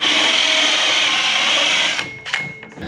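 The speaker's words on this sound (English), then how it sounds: "Then we'll just take the reciprocating saw and connect the lines" A reciprocating saw cuts along drilled hatch lines in a Silver Eagle bus, a steady loud buzzing rasp for about two seconds before it stops, followed by a few brief knocks and scrapes.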